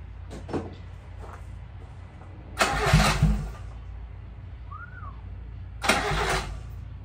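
A Subaru Sambar engine with a freshly rebuilt carburetor gives two short, loud bursts of cranking, each about a second long, with quiet idle-like rumble between them.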